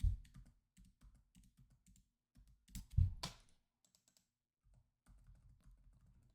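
Laptop keyboard typed on up close: irregular bursts of light key clicks separated by short pauses, with a louder cluster of taps near the middle and no voices.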